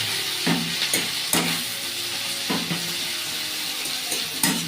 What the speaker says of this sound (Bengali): পেঁয়াজ ভাজার সাথে যখন গরম মশলা দেওয়া কড়াইয়ের মধ্যে যখন পড়বে